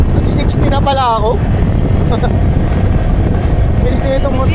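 A boat engine roars steadily under heavy wind buffeting, with a person talking over the noise.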